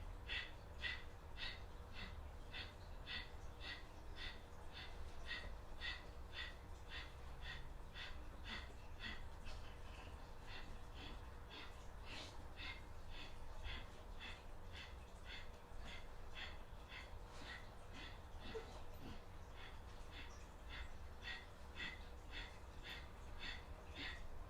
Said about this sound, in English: Kapalabhati breathing, but in this position here to really isolate your abdominal wall